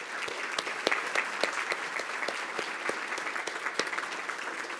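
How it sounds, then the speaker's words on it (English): Audience at a school board meeting applauding steadily for about five seconds, a dense patter of many hands at moderate level from a room-sized crowd. "Let's give them a round of applause."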